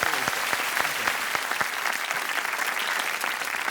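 Steady applause from an audience, many hands clapping continuously at a moderate distance with no talking.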